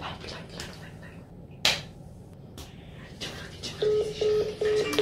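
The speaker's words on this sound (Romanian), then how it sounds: "Ia, hai să sunăm pe Dodo" A telephone being dialed for a prank call, its short keypad tones repeating in a steady sequence near the end, over room noise and scattered clatter.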